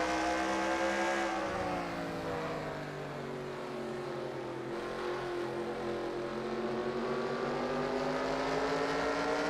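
Stock car engines in an NSDCA racing video game at Myrtle Beach, a continuous droning roar with gliding pitch as a car holds the throttle through corners, steady and fairly loud without a break.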